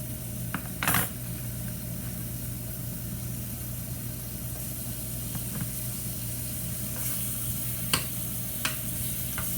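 Bacon fries in a pan on a stove set to 350, giving a steady close sizzle with a low hum throughout and a few brief clinks and scrapes.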